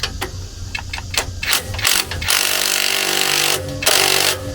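A ratchet with a 19 mm socket clicks in short bursts, then winds continuously, tightening a bolt during a Skyjacker lift install on a Jeep Gladiator. The sound is close and mechanical, with no talk.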